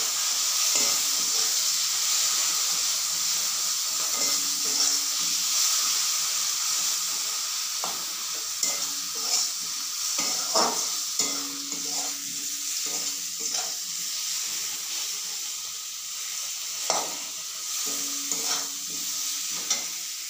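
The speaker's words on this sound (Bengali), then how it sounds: "মশলাটা একটু ভেজে নেব।" Spice paste of ground coriander, cumin and turmeric with tomato and green chilli fries in a pan, giving a steady close sizzle broken by scraping and clinking as it is stirred.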